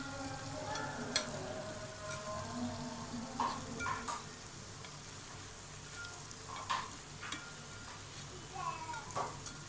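Jalebi deep-frying in oil over low heat makes a continuous soft sizzle, broken by occasional light clinks and scrapes of stirring, with no one talking.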